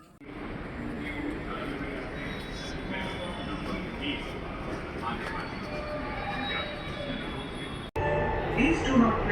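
A moving passenger train rumbles with a steady low roar throughout, heard from inside the carriage, while voices talk over it and the sound briefly cuts and changes near the end.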